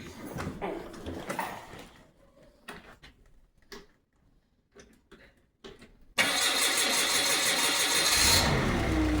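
A skid steer in an industrial warehouse goes through a few clicks and clunks before its engine catches and settles into a loud, steady idle close by.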